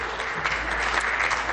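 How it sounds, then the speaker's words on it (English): Steady, dense applause fills a legislative chamber in Ontario's legislature, a loud, even wash of many hands clapping throughout with no voices on top. "So welcome, please clap."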